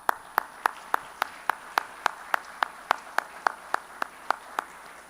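Evenly spaced single claps, about three per second, sharp and fairly close, a lone steady clapping rhythm at an event launch rather than a full crowd.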